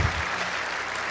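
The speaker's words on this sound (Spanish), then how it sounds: "Si va a aplaudir a Jehová, hágalo con toda su fuerza, por favor." Church congregation applauding during a sermon, a steady dense wash of clapping with a heavier burst at the very start, no voices on top.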